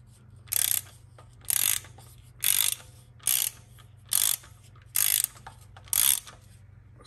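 Bolts on a C8 Corvette DCT filter cover are snugged up with a ratchet, seven short bursts of quick clicking at an even pace, close by over a quiet low hum.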